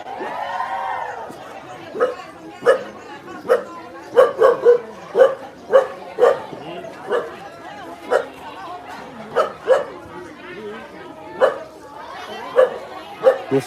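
A dog barks repeatedly in short, loud yaps and bow-wows at an outdoor Thai ordination procession with an elephant, the barks spaced a second or so apart with crowd chatter underneath.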